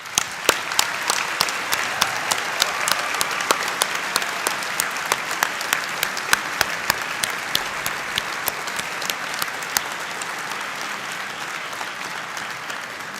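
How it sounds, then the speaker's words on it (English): A large graduation-ceremony crowd in Belfast applauds steadily and at length for graduates' families and friends, with many distinct hand claps standing out over a dense, even wash of clapping and no talk. "Let's give them a huge round of applause"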